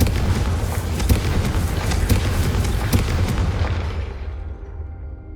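A blasting spell bursting against candelabras in the Hogwarts Legacy game: a dense, loud rumbling blast with repeated sharp cracks on top, sustained for several seconds before fading out.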